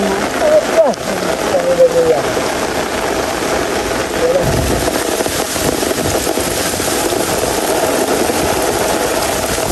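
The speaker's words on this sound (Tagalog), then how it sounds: "Grabe ang ulan." Heavy tropical rain pounding steadily near a fish pond and hut, a dense continuous roar with a brief low rumble partway through.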